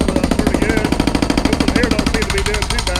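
A hydraulic hammer on a rented mini excavator breaks up a concrete pad with rapid, steady, loud pounding blows, heard up close.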